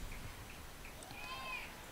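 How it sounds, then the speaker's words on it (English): A cat scream rises briefly at a high pitch against loud crowd and broadcast noise at a high school football game, faint and partly masked by the steady din. "That cat sounds dead, doesn't it?"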